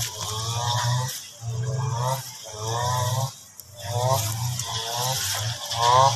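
A motorized grass cutter trims grass in a garden. The engine revs in repeated bursts of about a second each, separated by brief dips, loud and close.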